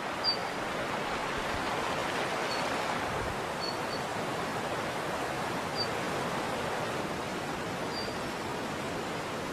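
A noisy waterfall by a stream on a rocky slope pours out a steady, dense broadband rush that stays even throughout, with faint high bird chirps now and then.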